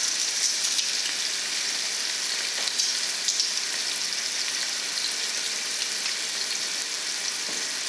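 Crushed garlic and onions fry in a pan for an eggplant and garden egg stew, producing a loud, even hiss and crackle that continues alone for the whole stretch.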